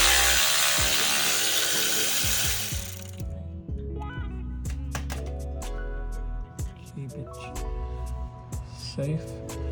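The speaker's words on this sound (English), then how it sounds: "remove this 12 millimeter bolt for the brake line" Ratchet loosening the 12 mm brake line bolt on a 2014 Honda CR-V during front strut replacement, a burst of rapid clicking followed by scattered metallic clicks and knocks, close by.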